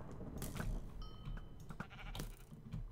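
Bleating sheep in a French game stream, with a couple of short wavering bleats rising over a steady, busy game soundscape and background murmur.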